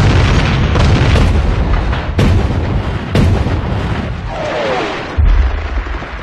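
Artillery barrage at the Battle of El Alamein, a series of loud booming blasts and rumbling detonations, several sharp heavy impacts spaced a second or so apart over a continuous roar of distant fire.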